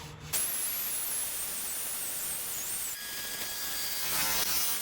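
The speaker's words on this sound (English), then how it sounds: "That is a light sanding and that is complete" Power sanding of a silver maple burl wood piece: a steady, close high-pitched whirring rasp held for several seconds, with a brief shift in tone partway through and no talk.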